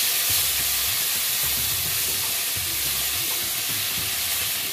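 Diced tomatoes and green chili sizzle steadily in a hot pan, a continuous close frying hiss with faint stirring scrapes and no voices.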